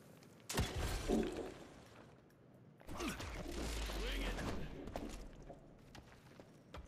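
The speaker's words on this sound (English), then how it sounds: "Shoot it. It's the rifle." Rifle fire in the video game Evil West, with sharp loud bursts and a rumbling, clattering stretch among other game sounds.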